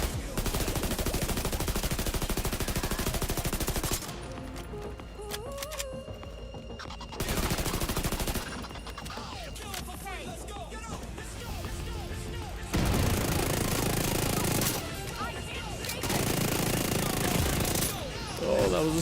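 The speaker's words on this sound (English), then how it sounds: "Oh, that was a sniper." Sniper rifle shots and heavy gunfire in the video game The Division 2, loud bursts of repeated firing that break off and resume across a busy combat mix, with talk now and then.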